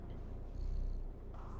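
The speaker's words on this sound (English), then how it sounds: "Can you hear the purring?" A soft, steady purr from a cat in the video game Stray, low and continuous with a slight rhythmic rumble, close and fairly quiet, with no voices.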